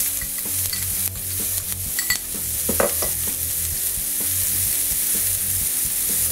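Onions hit hot olive oil in a pan with a bright, continuous sizzle close by, a few clinks and scrapes of stirring near the start, then a steady hiss to the end.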